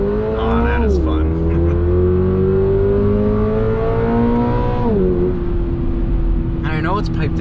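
A 2022 Subaru BRZ sports car engine, its sound partly piped into the cabin, heard from inside as a steady hum that rises, shifts and settles, with people talking over it.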